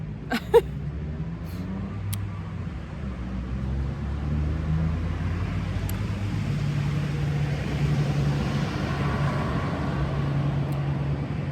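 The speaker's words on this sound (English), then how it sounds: "I do not remember there being that much traffic when I used to live here." Steady low road rumble of traffic passing outside, with a heavy truck among the vehicles, holding as a continuous drone throughout with a brief knock near the start.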